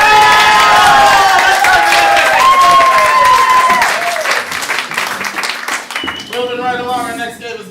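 Audience at an improv comedy show applauding and cheering loudly, dense clapping with whoops and shouts that gradually thin out while people talk over it near the end.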